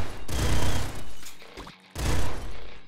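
Rapid weapon fire from the top-down shooter Nuclear Throne, loud dense bursts of gunfire and booms filling most of the clip, with a short break before a second volley.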